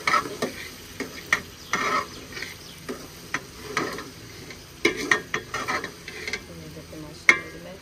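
Okra in ghee is mashed and stirred in a pan, giving irregular scraping knocks and clatters over a soft, low sizzle, close and moderately quiet, with no talking.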